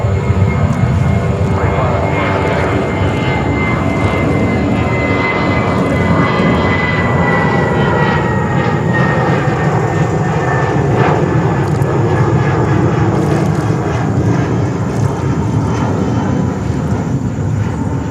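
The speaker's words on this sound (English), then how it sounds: "The next takeoff, back-to-back action here." A jet airliner roars loudly and continuously while taking off at JFK Airport in New York. The engine noise holds steady throughout with no pause.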